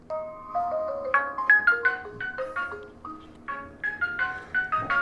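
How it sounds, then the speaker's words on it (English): A wireless 2K doorbell camera plays a bright electronic chime melody, a clear run of rising tones that repeats after a short pause, close and alone. "the doorbell is actually also ringing"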